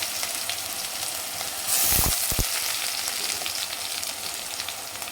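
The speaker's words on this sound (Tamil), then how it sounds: "கடுகு நல்லா பொரிஞ்சிட்டு அப்படின்னா நம்ம அரைச்சி வச்சு பூண்டு வெங்காயத்தை சேர்த்துக்கலாங்க" Ground garlic and onion hit hot oil with popped mustard seeds for a drumstick kara kuzhambu, giving a steady close sizzle and crackle, with a brief louder burst as they are stirred in.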